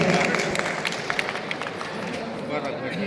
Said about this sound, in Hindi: तालियां बजती रहे